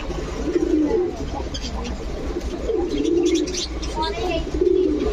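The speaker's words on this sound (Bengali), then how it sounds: "কবুতরগুলো কি পরিমাণ অ্যাক্টিভ" Pigeons in a loft keep up low, throaty cooing in repeated rolling phrases, with occasional chirps and rustling over a constant background hum; a person talks over the birds.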